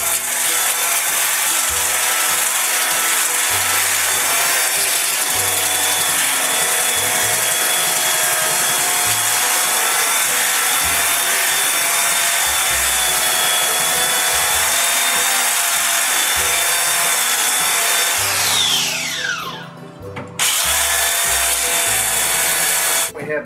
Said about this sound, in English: Now we're going to be belt sanding our top on both sides.